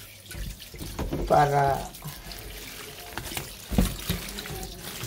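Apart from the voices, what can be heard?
washing chicken under a running water tap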